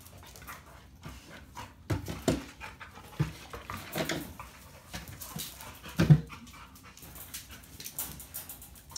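Dogo Argentino dogs, including a puppy, pant and scuffle in playful bursts, with soft whimpers and thumps from nearby, irregular and unhurried.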